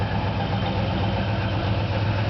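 A rebuilt original-numbers 283 V8 with 195 horsepower in a body-off restored 1965 Chevelle Malibu SS convertible idles steadily, a smooth, even low rumble held close and constant throughout, with no voices.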